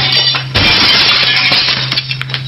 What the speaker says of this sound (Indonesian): Pecah piring rumah kita.